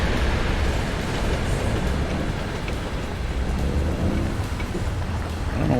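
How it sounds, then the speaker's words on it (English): A train passes in American Truck Simulator near a large mine. It makes a loud, dense, continuous rumble with a broad roar, steady throughout and close by, with no talking. "I hear a train."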